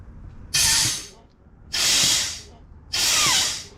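Three long, loud bursts of compressed air from a compressor hiss into a car radiator hose, each lasting about a second with short pauses between, close up.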